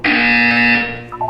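Loud electronic buzzer from the Portal 2 test chamber, a single steady harsh tone lasting about a second before cutting off, close and alone.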